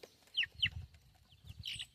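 Young chickens and a rooster in a coop give a few short, sharp clucks and squawks, close and moderately loud, with soft scuffling and rustling between the calls. No one talks.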